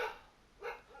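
A dog barking in the background of a Prison Architect game session on PS5, three short yips spaced apart, moderately near, with no talk over them.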